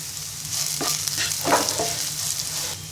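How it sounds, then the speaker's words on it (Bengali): Radish greens with dried chillies and salt sizzle steadily in hot oil in a Bengali-style fry, while a few quick stirring strokes scrape through the middle, close and clear. "এবার ভালো করে নেড়ে নিব"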